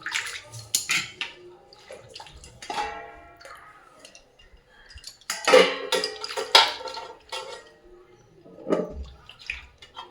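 Vegetables being washed in a basin of water, with intermittent splashes, sloshing and clinks of a metal vessel arriving in short uneven bursts close by, quiet gaps between them.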